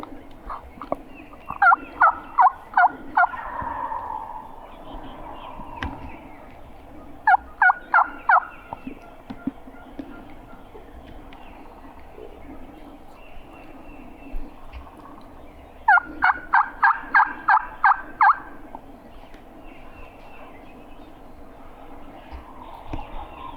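Wild turkeys gobble in three separate rattling bursts of rapid notes, heard from a moderate distance across a quiet outdoor setting with faint background noise between calls.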